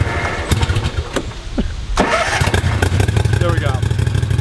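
A gas-powered lawn mower with key electric start cranks and catches, its engine rumbling close and loud beneath an ongoing voice.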